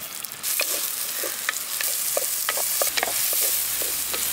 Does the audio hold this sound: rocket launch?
no